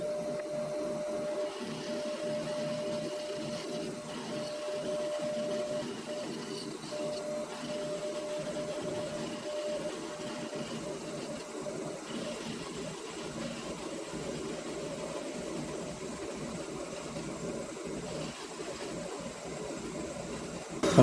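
A metal lathe plunge cutting with a newly replaced motor gives a steady, continuous mechanical whir and hum with a faint tonal whine, constant and close for about twenty seconds, with no talking.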